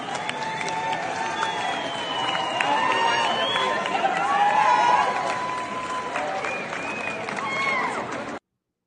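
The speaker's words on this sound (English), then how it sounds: "There's more cheering." A crowd cheers and shouts continuously at steady volume, swelling slightly in the middle, with scattered clapping and raised voices mixed in.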